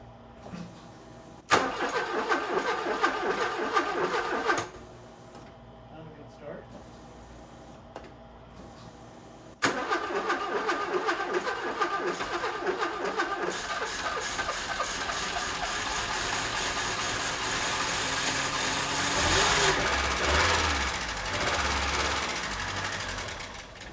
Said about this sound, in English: Let's see if this thing will start.